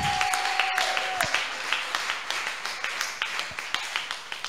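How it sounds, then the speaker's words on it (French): A church congregation at a women's worship service applauds to praise God, a steady crowd of clapping with sharp repeated claps continuing throughout, fairly close and loud. "Est-ce que quelqu'un peut acclamer Dieu pour ces moments-là?"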